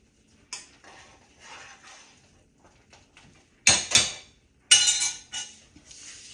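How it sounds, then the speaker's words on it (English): A utensil scrapes and clacks against a bowl while stirring dumpling filling, scattered soft scrapes followed by a few louder, sharper knocks close by. "Give it a quick stir."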